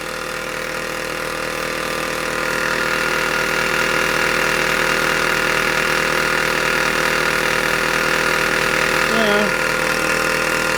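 A scratch-built overtype model steam engine runs with a steady, continuous mechanical chug that grows slightly louder after a couple of seconds, with a brief squeaky tone near the end; no talking over it.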